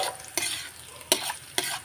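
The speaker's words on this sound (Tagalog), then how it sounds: "Ayan, nagisa na natin ang ating bawang at saka sibuyas guys." Garlic and onion sauté in a pan with a steady soft sizzle, broken by three brisk scraping stir strokes at regular intervals, close and fairly quiet.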